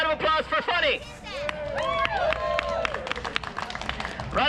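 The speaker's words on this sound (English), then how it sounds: "Round of applause for funny." Festival audience at a Renaissance fair show clapping and cheering in brief bursts between a performer's animated talk, the crowd reaction fairly close and lively.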